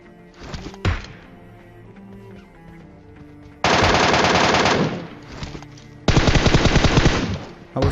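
Rapid automatic gunfire in the mobile battle royale game PUBG Mobile, with a short shot early on, then two loud sustained bursts of machine-gun fire separated by a quieter pause.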